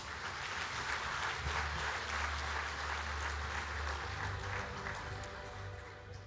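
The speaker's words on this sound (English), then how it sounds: "Give them all a round of applause" Sustained applause from an audience at a financial inclusion awards ceremony, dense and steady clapping over a low hum, holding for several seconds without talk.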